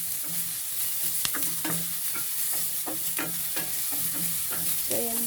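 Onion and garlic sizzle steadily in a hot pan while being sautéed for ginisang toge, with a spatula scraping and clinking at irregular intervals over a constant frying hiss; no voices.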